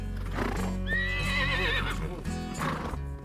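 A horse on a trail ride in Rosarito lets out a loud, close whinny with a wavering pitch, over the steady clip-clop of hooves and a low outdoor rumble.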